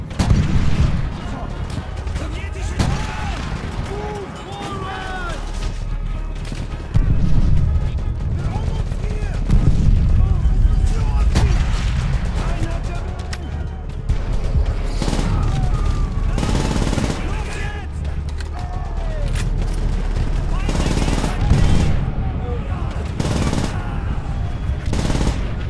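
Sustained enemy gunfire in Call of Duty: World at War, with bursts of automatic rifle and machine-gun shots and occasional heavier blasts rolling on without pause as battlefield noise fills the background.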